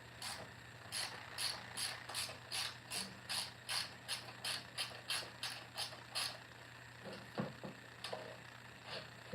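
A ratchet clicks in quick, even strokes while loosening a cable bolt on a Toro Timemaster mower, about a dozen crisp close bursts, then a few slower, irregular clicks and clanks.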